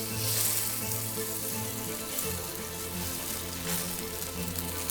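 Salmon sears skin side down in a hot pan, a steady close sizzle with a broad hiss and a low background hum running throughout, no voices.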